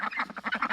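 Ducklings and a gosling on a farm give a quick run of soft, repeated peeps and quacky calls, close by and steady, with no talk over them.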